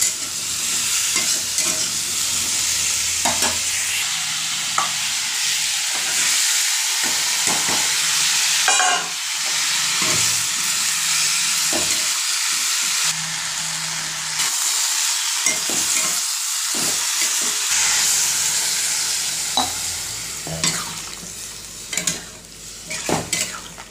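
Pointed gourd frying in a pan with steady sizzling and repeated stirring scrapes throughout, a close and fairly loud kitchen sound with a few brief metallic clinks of utensils and no talking.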